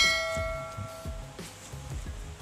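A bright bell-like chime with ringing tones, sounding like a notification bell effect, repeats over low rhythmic thuds and fades out over a couple of seconds.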